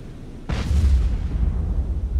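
A torpedo strikes a submarine at sea in the naval warfare game Cold Waters, giving one sudden heavy boom that swells into a deep, rumbling roar and lingers as a low, sustained rumble for about two seconds.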